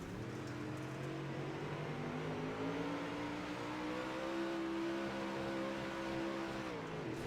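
A UMP Modified race car engine on a dirt track screams at sustained high revs, its tone held flat and bouncing near the limiter, loud and continuous for several seconds.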